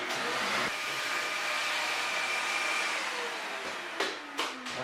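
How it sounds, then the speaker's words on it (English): A vacuum cleaner hoses out the exhaust port of a Broan 678E bathroom fan housing, giving a steady, fairly loud whooshing drone broken by a few sharp bumps and shifts near the end as the nozzle knocks about. "now I can vacuum up what's in that exhaust port."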